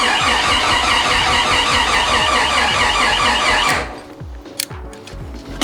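A Jeep 4.6L stroker engine cranking on a start attempt: the starter whirs with a loud, steady squeal for nearly four seconds, then cuts off, leaving low rhythmic chugging and a few faint clicks.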